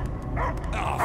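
A dog barking in a tense film scene, quick yips and bow-wow barks close by within a short burst.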